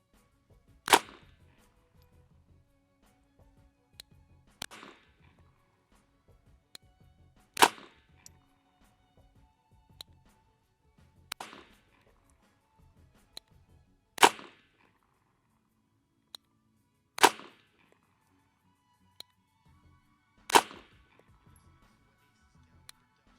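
Seven sharp single shots from a GSG 1911 .22 LR pistol, evenly spaced a few seconds apart at an outdoor range, each a crisp crack with a brief decay and quiet gaps between.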